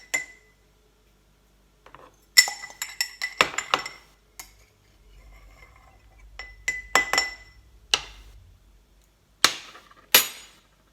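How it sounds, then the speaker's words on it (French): A glass jar of ground flax and sesame seeds handled with a spoon, giving bright clinks and taps in clustered bursts separated by quiet gaps, with a soft low rustle midway, close and without talk. "on prend notre bocal de graines de lin et de graines de sésame broyées et on va incorporer à notre préparation les 2 cuillères à soupe"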